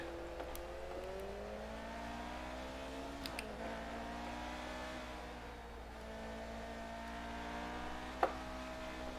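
A Formula One car engine in the F1 2019 video game revs steadily at high pitch, easing off and climbing again with a sharp tone, alongside a few faint clicks and a brief sharp tap near the end.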